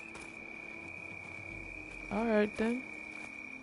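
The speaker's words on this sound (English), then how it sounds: "Man, those frogs or toads are loud." Frogs or toads croak in a shrill, unbroken chorus in the video game Horizon Forbidden West, keeping one steady high pitch throughout while someone speaks briefly over it.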